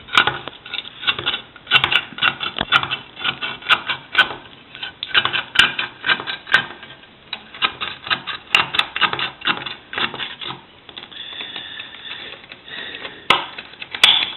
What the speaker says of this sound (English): Continue to cut around here with a twisting motion, not too big of a bite, until the can is done.